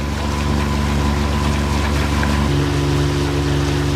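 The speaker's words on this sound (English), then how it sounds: "Here's a nice motorboat going by us called Nessie. This motorboat going by me." A motorboat passes close by a sailing yacht in tidal water near Sandy Straits, its engine a loud, steady droning hum whose tone shifts lower midway, over rushing wind and water.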